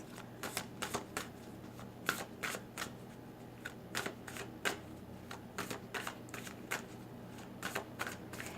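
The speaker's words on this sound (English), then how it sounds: "let's see what other resonating tidbits I can get with the Amira Salon's Love Oracle cards" Love oracle cards are shuffled by hand in quick, crisp riffling bursts that repeat in an irregular rhythm, close and quiet, with no voices.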